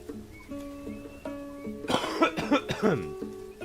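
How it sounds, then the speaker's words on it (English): Several harsh coughs in a quick cluster break in over a steady musical drone, close and fairly loud. "I do still have a bit of a cough"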